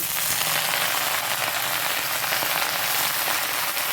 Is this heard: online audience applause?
no